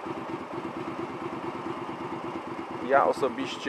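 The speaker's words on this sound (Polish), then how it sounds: "obroty zdecydowanie nam wzrosły. W lewo będą malały." A Honda Shadow 125 motorcycle engine idles with a steady, close, low pulsing throb while its revs are adjusted, and someone speaks over it near the end.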